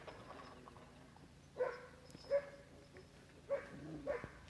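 A tiny sled dog puppy gives a few short, high yips and barks, spaced about a second apart, fairly close, over a quiet background.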